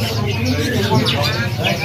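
A black red canary for sale chirps and trills in quick short bursts, close by, while someone talks over it throughout.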